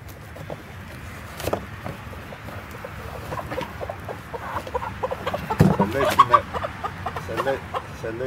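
Young hens about 15-16 weeks old cluck softly and intermittently, growing busier toward the end, with scattered rustling and background noise.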